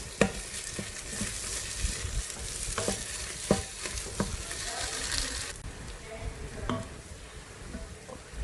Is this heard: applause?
no